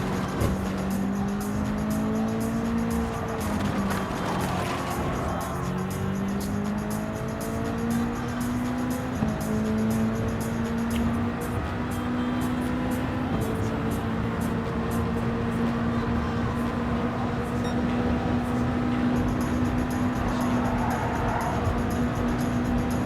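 Race car engine held at full throttle in Gran Turismo 7, a loud, continuous high-revving drone that climbs and shifts pitch steadily through the lap, with no pauses and no voices.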